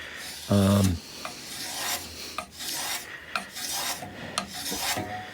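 A file rasps a bevel into a teak wood spatula in steady back-and-forth strokes, close and fairly loud, with a brief knock near the start and short pauses between passes.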